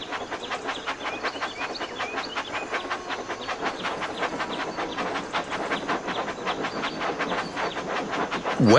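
Toy train engine running in the Thomas and Friends: Magical Tracks video game, a steady rhythmic chugging clatter with hissy puffs throughout, swelling louder right at the end.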